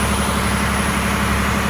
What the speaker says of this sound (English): You can hear the truck revving up.